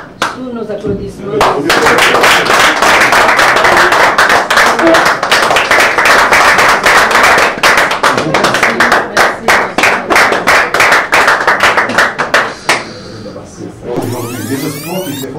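An audience at an award ceremony applauds with close, loud, dense clapping. It thins into scattered individual claps before fading, with voices audible in the background.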